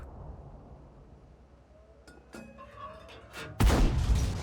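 A tank cannon shot in World of Tanks from a ShPTK-TVP 100: low engine rumble and faint clinks, then one sudden loud boom near the end that rings on briefly.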